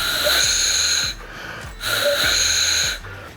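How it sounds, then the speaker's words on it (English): Two breathy, rasping blasts on a reed goose call, each about a second long with a short pause between, close and fairly loud. "We're trying to learn how to properly operate a short reed goose call."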